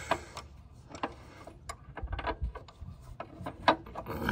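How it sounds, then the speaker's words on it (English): A Craftsman speed wrench works loose nylock nuts on a commercial lawn mower spindle, giving close, irregular metallic ticks, scrapes and rubbing clicks that pick up in pace toward the end. "Using my trusty Craftsman speed wrench."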